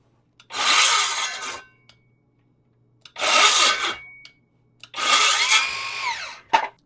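A battery-powered Hyper Tough circular saw makes three short, loud cuts through wood, each about a second long, with silent gaps between them and no voices.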